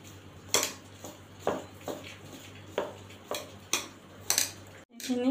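Chopped green chilies stirred with a spoonful of lemon juice for chattu paratha filling, a series of sharp spoon-on-bowl clinks and scrapes repeating every half second or so, close and clear over a low steady hum.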